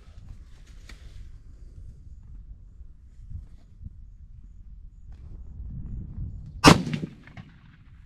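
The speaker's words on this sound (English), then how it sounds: "I'll shoot one more to make sure." A single rifle shot fired while sighting in for deer season cracks out sharply near the end, a loud, abrupt report over a quiet outdoor background with faint rustling.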